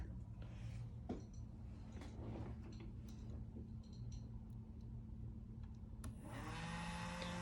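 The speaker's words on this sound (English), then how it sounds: "the DC motor is running continuously" Small DC motor in a mechatronic build whirring continuously with a steady low hum, faint overall, joined by light ticking and a brighter whine near the end.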